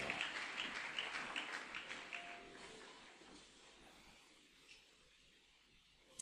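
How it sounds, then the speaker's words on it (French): Church congregation applauding the Gospel reading, a soft, fairly distant patter of clapping that is strongest at the start and gradually thins out, fading to near quiet by the end. "Acclamons la parole du Seigneur"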